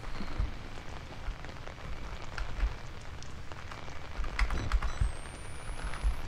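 Steady rain in the video game Outlast patters on a surface, a soft continuous hiss with scattered drops and occasional low thumps, no voices.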